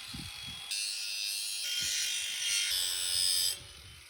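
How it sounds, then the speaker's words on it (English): An angle grinder grinding the metal cheeks off a kindling cracker in short bursts, its whine rising and dropping between passes, with faint knocks and handling noises in the gaps. "So I'll try to grind off the cheeks."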